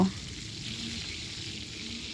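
Steady, close sizzling of pointed gourd frying in hot oil until reddish, a constant hiss with no voices.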